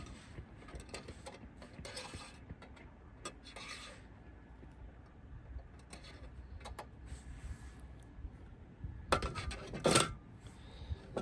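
A Lotus alcohol stove is set into a metal Firebox Storm stove, with scattered close metallic clinks, scrapes and rattles. A louder clattering burst comes near the end.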